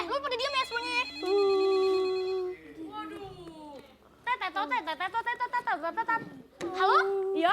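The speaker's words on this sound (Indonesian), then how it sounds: "tuh HP-nya tuh bunyi tuh" A mobile phone ringtone plays loudly as a repeating melodic tune in a comedic Betawi lenong stage show, with people speaking around it.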